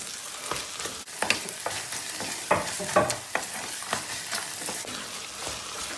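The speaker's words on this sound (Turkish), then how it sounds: "Şöyle bir karıştıralım." Tomato paste and pepper paste frying with peppers in a pan hiss steadily at close range, broken by repeated scraping stirs and soft clacks of a spoon, with no voices.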